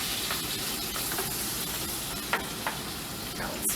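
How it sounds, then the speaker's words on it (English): Zucchini, sausage and peppers frying in a skillet: a steady, close sizzle running throughout, with a few sharp pops and spatters rising over it and no talk. "Now it's frying up really nice."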